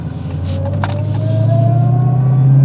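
A Dodge Challenger Hellcat with a six-speed manual is heard from inside the cabin as the driver blips the throttle for a rev-matched downshift. The loud engine note climbs steadily in pitch and volume, with no talking.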